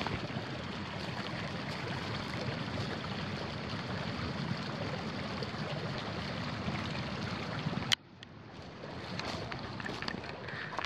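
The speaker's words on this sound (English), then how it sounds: "from the stream is going through all the rocks from the rock slide and it's making a roaring sound downstream" Dense, continuous roar of a creek's water pouring through rocks from a rock slide, loud and close, with a sudden dip partway as the position shifts before the rushing noise swells back.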